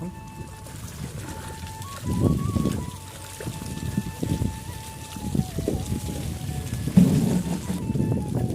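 Rain pours steadily outdoors, a continuous broadband wash with a few heavier surges and splashes, while a faint steady tone runs through the background.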